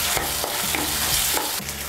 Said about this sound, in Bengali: একটু নাড়াচাড়া করে নিয়ে এর মধ্যে আমি গুঁড়ো মশলাগুলো দিয়ে দেব